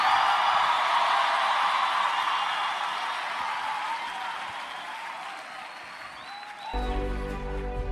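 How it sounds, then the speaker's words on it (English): A church congregation claps and cheers during a preacher's sermon, a dense sustained roar of applause and shouts that gradually thins, then gives way to a sudden low musical tone near the end. "clap them hands and scream hallelujah"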